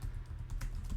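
A command being typed on a computer keyboard, heard as a quick run of close, light key clicks over about a second with no voices.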